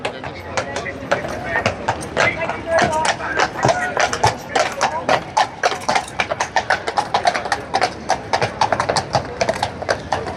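Several horses clip-clop at a guard changeover in a rhythmic, close run of hoofbeats, with voices in the background.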